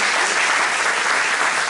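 Audience applause for university students at Universidad Ricardo Palma, a steady dense wash of clapping filling the room, loud and continuous throughout.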